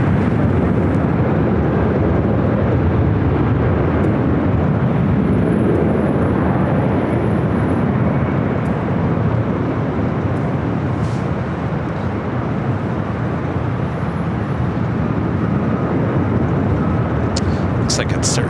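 An Air Canada Express CRJ 900 LR regional jet arriving from Vancouver on the north side of LAX gives a loud, steady, broad jet roar that holds for the whole stretch, with a voice talking over it.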